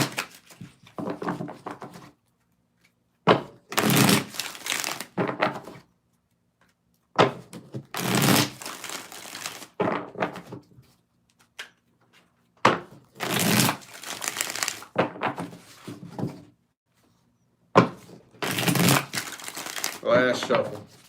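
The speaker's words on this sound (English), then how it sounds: "Let's get 6 shuffles." Tarot cards riffled and shuffled in four or five separate bursts, each lasting a second or two with short quiet gaps between, loud and close by with no talking over them.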